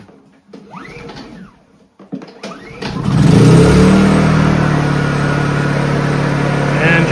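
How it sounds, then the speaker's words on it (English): A Honda inverter generator converted to run on propane is cranked and then starts at about three seconds, settling into a loud, steady running drone close by after quiet mechanical handling sounds. "we are running the generator off propane"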